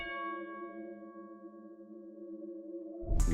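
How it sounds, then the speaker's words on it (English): A single tubular bell note from the Purity GM synth with no effects, struck once and ringing with a bright metallic tone that slowly fades over about three seconds before a short burst of other sound cuts in. "got me the tubular bells"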